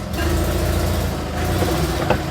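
Invacar invalid carriage moving off after its handbrake is released, a loud steady engine drone with mechanical rattles close by and a small clunk near the end.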